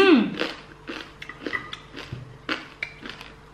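Crunchy roasted meat skin is bitten and then chewed close up, a sharp initial crackle followed by a series of irregular wet crunches and smacking bites at a quick, uneven pace.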